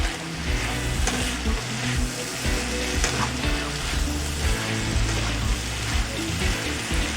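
Potatoes with added salt being stirred in an oiled pan for a mixed vegetable sabzi with red cabbage, a steady close sizzle and fry with repeated scraping and mixing clatter throughout, no voices.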